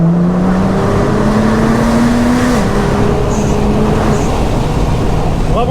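Nissan GT-R Track Edition with a 570 hp engine driving, heard from inside the cabin as a steady loud engine drone with a gear-change pitch step, continuous through the whole stretch.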